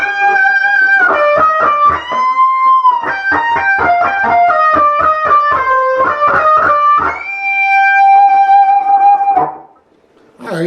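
Electric guitar with overdriven tone plays the closing run of a solo high on the neck, quick picked and bent notes, then a long sustained vibrato note, loud and alone.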